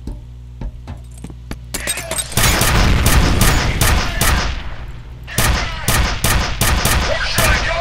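Rapid bursts of gunfire in the F.E.A.R. shooter game, sparse single shots at first, then a dense, loud sustained volley that pauses briefly before resuming in sharp repeated cracks.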